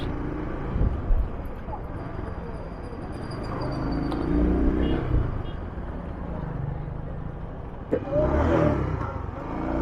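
Honda XL 185S motorcycle engine pulling while riding: a steady, rough low rumble throughout that swells and surges in places, mixed with wind noise.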